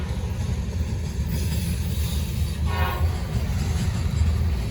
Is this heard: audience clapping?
no